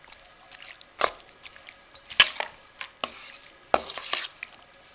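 Spoon stirring chopped medium onion into chana chaat in a bowl, with irregular clinks and scrapes against the bowl, sharp knocks now and then, close and fairly quiet, no talking.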